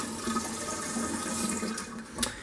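Water runs from a just-repaired kitchen mixer tap into a sink, a close, steady gush that holds for a few seconds before a brief splash near the end.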